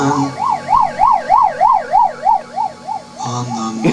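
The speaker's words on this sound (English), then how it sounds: "You could hear that stereo really well as the police siren went by." Police siren wailing in a steady rising-and-falling pattern as it passes, played back from an 8-track tape deck (model 8D407), loud and fading after about three seconds, with other sounds following.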